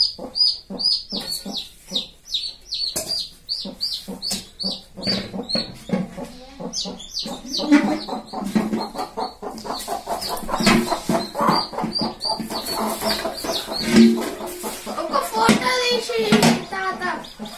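A Sussex hen clucks close by in repeated rhythmic calls, with other chickens and small birds chirping around her and a voice now and then.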